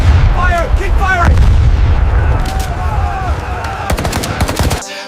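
Rapid bursts of gunfire, machine-gun-like with heavy booms, run through a war news report amid shouted commands and background voices, dense and loud throughout, with sharp cracks clustering near the end before an abrupt cut.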